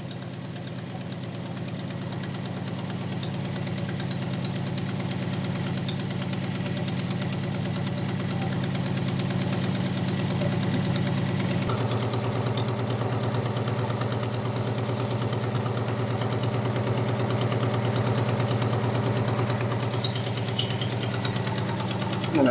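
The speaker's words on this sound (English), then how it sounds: "I think our exhaust leak is causing a problem" A car engine with an exhaust leak idles steadily and close by, a continuous low rumble with a faint knocking pulse and no break for over twenty seconds.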